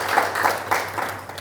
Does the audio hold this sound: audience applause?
yes